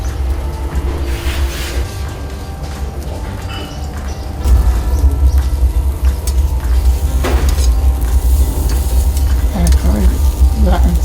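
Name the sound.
mackerel sizzling on grill embers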